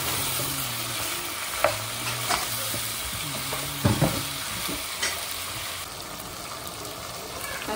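Chicken pieces frying with onion in a pan, with a steady close sizzle broken by a few sharp stirring scrapes and clatters of the utensil against the pan.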